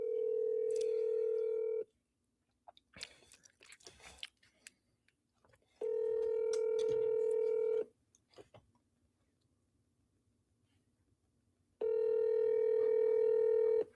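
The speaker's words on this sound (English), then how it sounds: "We're calling the private cell phone of one Bill Back." Phone call ringback: three long, loud, steady tones separated by pauses, with faint clicks and handling noise between them, as a call is placed to a private cell phone that goes unanswered.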